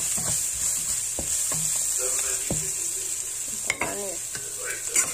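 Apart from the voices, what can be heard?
stir-frying spaghetti with mushrooms in a pan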